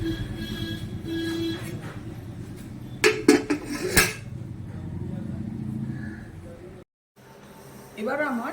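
A metal lid clatters onto a pot of chicken pulao in a home kitchen, giving a few sharp clanks in the middle, with someone talking before and after.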